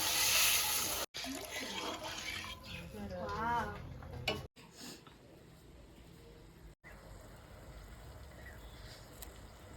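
Water is poured into a spiced egg curry in a pan, giving a soft, continuous splashing rush that is close and fairly quiet. A brief voice sounds partway through.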